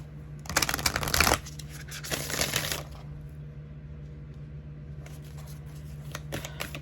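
A deck of tarot cards is shuffled by hand in close, crisp bursts of riffling and rustling, with quiet pauses between them against a low steady hum.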